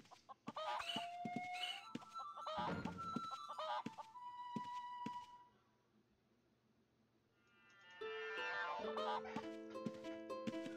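Battle chicken lizards from the video game Ultima Online cluck and squawk in bursts of shrill, tonal calls, pausing briefly in the middle before a fresh cluster of overlapping clucks resumes.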